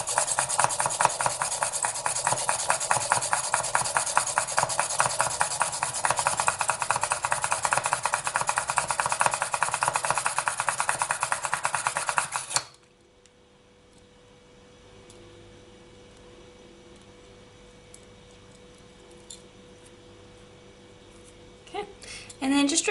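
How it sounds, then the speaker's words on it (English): A hole being drilled through a polymer clay and resin earring piece from the resin side, a steady loud grinding rasp for about twelve seconds that stops abruptly, leaving quiet room noise with faint handling sounds. "drilling from the resin side, you would drill one hole at the bottom of your piece"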